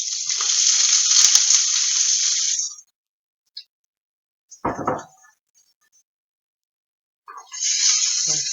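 Onions go into hot oil in a pan for a chicken tartiflette, a bright steady sizzle that cuts off, a short clatter in the quiet gap, then the sizzling picks up again.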